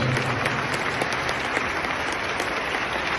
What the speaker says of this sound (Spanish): Creo que merece un gran aplauso a su gente